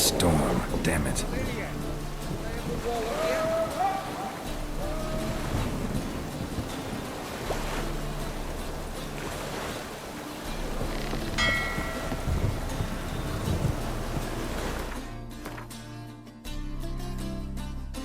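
Heavy thunderstorm in The Witcher 3, with a thunder rumble opening into steady pounding rain and wind for most of the stretch before it suddenly thins out near the end; voices talk over the storm.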